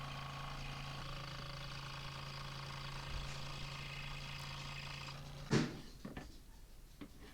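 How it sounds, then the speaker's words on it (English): A bandsaw cuts wood for a VW camper planter, making a steady machine drone with a constant tone that runs for several seconds. It ends in a sharp clunk, and the motor then winds down. "Cutting that out with the bandsaw."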